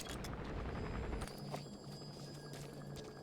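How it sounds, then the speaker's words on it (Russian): Helicopter drawing closer in Metal Gear Solid V: The Phantom Pain, a low steady rotor drone with a few tonal hums, faint and distant, no talk over it. "Я уже слышу вертолет."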